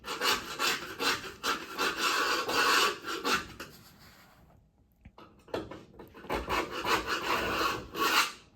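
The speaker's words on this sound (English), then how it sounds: "I'm just gonna take finger and smear it down through there" Steady rubbing and smearing of sealant by finger along the windshield channel of a 1966 Chevy C10 cab, close and continuous, with a brief quiet gap midway before the rubbing resumes.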